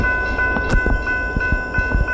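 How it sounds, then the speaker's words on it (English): A train rumbles past close by on the Chillicothe subdivision, loud and continuous, with rhythmic clicking of wheels over rail joints and a steady tonal hum. "This train was heading toward Galesburg."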